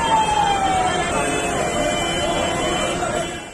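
Fire engine sirens at a blaze near Mundka metro station in Delhi, a wailing tone sweeping downward and rising again, loud and close, with a voice speaking over it.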